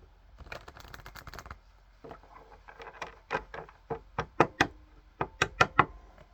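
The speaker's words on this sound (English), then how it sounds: "One more shuffle." Cards being shuffled and riffled, a quick burst of fluttering followed by a series of sharp taps and snaps, close up with no talking.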